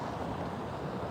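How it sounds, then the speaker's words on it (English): Wind buffets the microphone outdoors on Fifth Avenue at Grand Army Plaza in New York City, a loud, continuous rumbling roar with no talking. "Oh wow, it's windy again."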